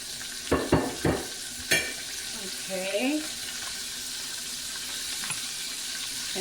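Oysters fry in hot oil with a soft, continuous sizzle. A few sharp clanks of utensils come early, and a brief voice-like murmur rises midway, all fairly quiet.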